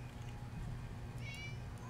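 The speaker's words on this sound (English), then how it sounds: "Is that my kitty cat?" A cat meowing in a video game, one faint rising meow over a low steady hum, short and distant-sounding.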